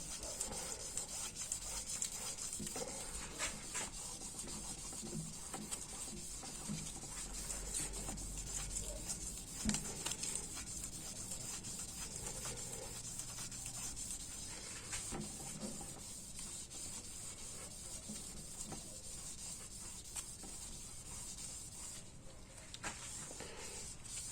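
Hand polishing a 4G63T crankshaft journal with 1200 grit sandpaper at home, a continuous close scratchy rubbing and hiss that persists steadily throughout without speech.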